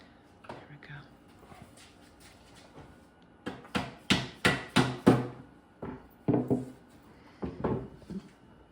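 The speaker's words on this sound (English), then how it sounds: "Gotta love a dead blow hammer." A dead blow hammer knocks on wooden desk parts in a workshop, a series of solid thuds, first scattered, then five quick strikes in a row followed by a few more, with faint talk in the background.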